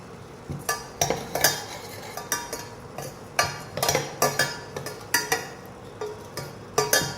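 Oats roasting in a pan and being stirred, giving a steady run of close, light scraping clinks and taps at an even rhythm, with no voices.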